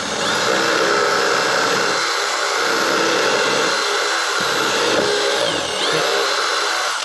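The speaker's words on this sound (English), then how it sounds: "now I'm gonna drill straight up into that hole as well" Power drill boring straight up into an existing hole on the underside of a bench, a loud steady whine with slight pitch dips as the bit bites, close and continuous with no talk.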